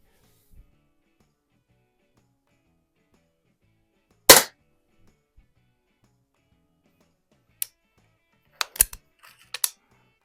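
Shots from a Daisy Model 62 underlever pellet pistol: a single sharp crack, then several short snappy pops in a quick loose cluster near the end, separated by near silence and no talking.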